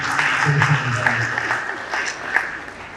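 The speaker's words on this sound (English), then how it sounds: "give him a round of applause for fantastic presentation" A short burst of audience applause at the RAIN Summit in Ibadan, Nigeria, with clapping that swells and fades over a few seconds beneath voices from the hall.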